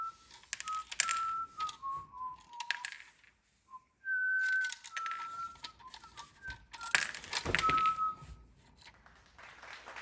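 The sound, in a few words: person whistling a British tune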